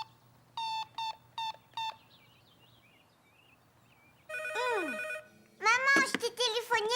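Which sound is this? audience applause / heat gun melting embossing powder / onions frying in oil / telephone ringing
telephone ringing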